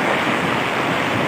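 Rushing floodwater during Typhoon Ulysses, a dense, continuous roar of churning water filling the whole clip at a loud, unbroken level with no voices.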